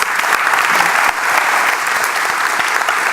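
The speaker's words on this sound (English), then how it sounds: "give the panel and our keynote speaker a big thank you by a big applause" Audience applause at a Pakhuis de Zwijger talk on the Common Good Economy, thanking a panel and keynote speaker; dense, steady clapping from a large crowd fills the room throughout, loud and close.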